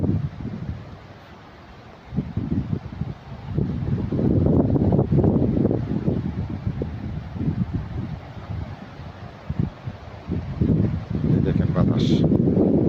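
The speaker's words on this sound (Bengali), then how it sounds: "দেখেন বাতাসে কি করতেছে পাতাগুলো। অনেক বাতাস আজকে।" Strong wind gusting through leaves, a loud continuous roar with rustling and microphone buffeting, swelling and easing in waves over the whole stretch.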